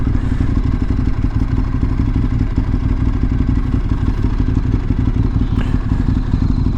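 Steady low rumble of a Ducati 848 sport motorcycle engine under way through city streets, a constant close-up drone with some mechanical clatter throughout, no voices.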